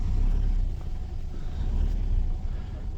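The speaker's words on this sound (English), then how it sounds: "Let's move out of the way of this car." A car rolls past close by, a loud steady low rumble of engine and tyres that swells and eases slightly over a few seconds.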